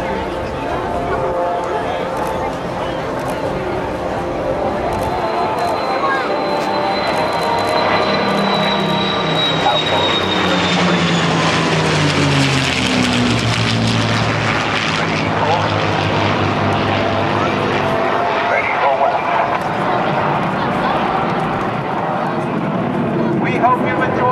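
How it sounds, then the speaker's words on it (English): Military heritage flight aircraft making a high overhead airshow pass at NAS Oceana, a loud sustained engine roar with a sweeping pitch shift as it goes over, heard under a public-address announcer and crowd noise. "look high overhead for the third and final pass of your United States Air Force Heritage Flight"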